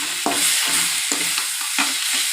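Onions with turmeric and rock salt are stirred in a kadai, three firm scraping strokes over a close, continuous sizzle.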